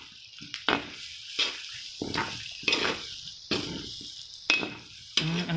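Shiitake mushrooms tossed into pork adobo in a pan, a series of sharp rhythmic spatula knocks and scrapes roughly every second over a low sizzle, close and clear with no talk.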